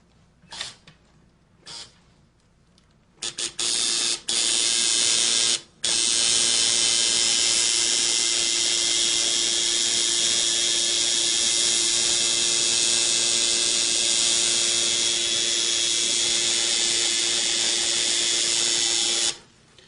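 Tattoo machine buzzing steadily while lining a greywash tattoo redo, a loud continuous close-up drone with a steady hum running for most of the stretch after a few brief start-stop bursts.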